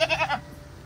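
A single short, wavering goat bleat, faint and brief, followed by quiet.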